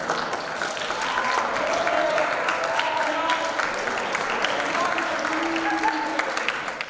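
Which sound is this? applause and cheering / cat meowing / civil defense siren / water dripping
applause and cheering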